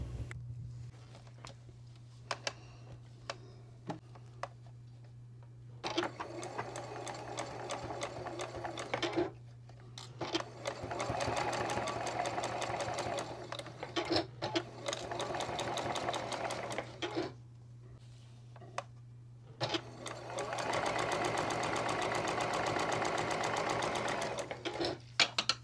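A sewing machine stitches a quarter-inch seam across a scrap-pieced blue quilt block in repeated runs of steady whirring, several bursts separated by short pauses, close and clear under a constant low hum.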